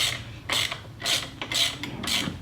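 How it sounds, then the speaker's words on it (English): Socket wrench on a long socket ratcheting out starter bolts on a Harley-Davidson touring motorcycle, four rhythmic bursts of rapid metallic clicking, close and clear, with no talking. "So we're going to take both those out to be able to remove the starter. You got to have a pretty long socket to get in there as well."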